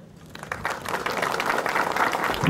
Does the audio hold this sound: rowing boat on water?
no